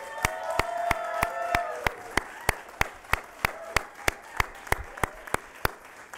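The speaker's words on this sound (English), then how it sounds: "I think that deserves a big round of applause" Audience applause at a NASDAQ closing bell ceremony for TTEC: sharp, evenly spaced claps ring out over a soft crowd wash, with a voice speaking over the first half before the clapping carries on alone.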